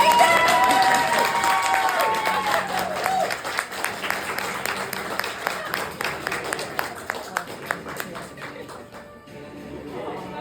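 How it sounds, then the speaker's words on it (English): Audience at a book signing applauding the author, mixed with scattered cheers at first, then thinning to a few sharp individual claps that fade out. "Let's go ahead and give a round of applause for our author of A Crown of Deceit, Alyssa Dell."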